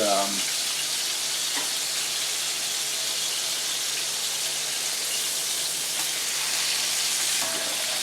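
Thinly sliced pork loin chops sizzle in a pan, an even, loud, unbroken hiss that holds steady for the whole stretch, with no voices.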